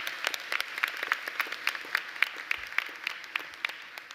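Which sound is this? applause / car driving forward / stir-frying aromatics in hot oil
applause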